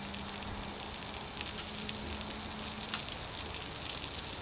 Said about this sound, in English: And onions, you can just throw in as much as you like.